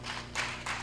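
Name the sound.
audience applause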